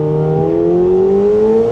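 A McLaren 750S engine pulls smoothly upward in pitch, a loud, sustained rev with a clean rising tone heard from inside the car.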